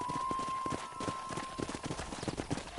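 Horse hooves galloping in the video game Red Dead Redemption, a quick steady clip-clop of hoofbeats with a sustained tone over it for the first half, then hooves continuing amid game sounds.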